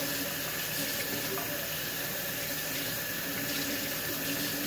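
Hot tap water runs steadily over a sponge in a kitchen sink, a continuous close splashing rush with no pauses and no talking.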